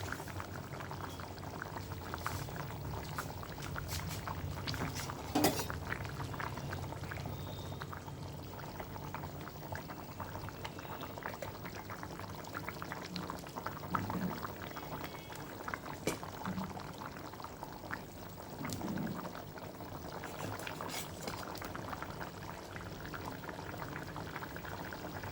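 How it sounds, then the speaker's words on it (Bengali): Fish curry broth boils in a covered pot, bubbling steadily and closely with small pops and a continuous simmering hiss throughout, with no voices. "এই দেখুন ঝোলটা কেমন টকবক করে ফুটছে।"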